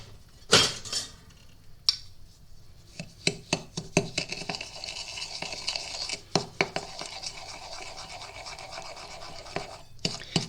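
A spatula stirs sugar in a bowl for Tunisian yoyo dough, giving irregular scraping strokes and light clinks against the bowl, close and fairly quiet, with short pauses between bursts.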